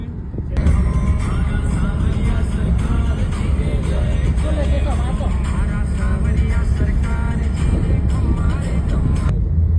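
A car drives along the road from Ramdevra toward Jaisalmer, with a steady loud engine and road rumble heard from inside and people talking over it.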